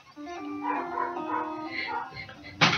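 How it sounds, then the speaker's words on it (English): Repeated barking from a dog in the retro platformer Battle Kid 2, a steady run of yelping barks at moderate level, ending in a short sharp burst. "The dog is just gonna keep on fucking barking"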